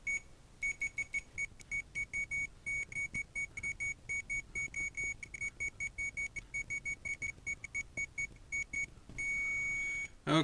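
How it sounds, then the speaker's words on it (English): A multimeter used for continuity testing on a broken video game console gives short, high, repeated beeps in irregular bursts, with one longer continuous tone near the end, over faint handling noise. "we're gonna bring in Uneven Steven for our continuity testing with his pals"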